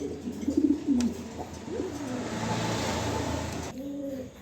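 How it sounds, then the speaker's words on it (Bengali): A pair of pigeons for sale coo nearby in a few low, throaty rolling phrases, followed by a steady wash of background noise. "এখানে এক পেয়ার কবুতর আছে, জটিল এক পেয়ার কবুতর।"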